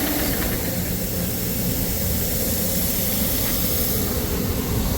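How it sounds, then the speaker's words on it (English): A grain dryer's wet auger runs steadily with a loud, continuous mechanical drone and no talking. "The wet auger just goes on and off, on and off, on and off."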